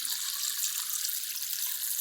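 Water pours steadily from a small irrigation pipe onto a maize field, a constant close splashing rush with no breaks and no voices over it.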